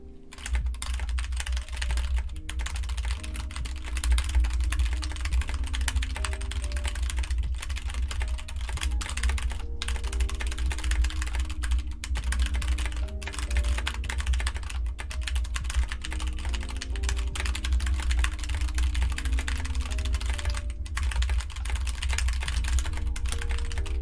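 Fast typing on a computer keyboard during an online typing race: a dense, continuous stream of quick key clicks and clatter runs without a break, close and steady over a low background hum, with no talking.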